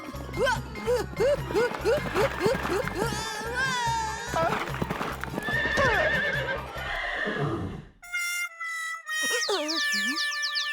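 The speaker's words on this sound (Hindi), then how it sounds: "घोड़े को टक्कर मारी" Cartoon horse neighing and whinnying loudly after being struck by a car, with clip-clop hooves and comic sound effects over a busy animated soundtrack, ending in bright musical tones.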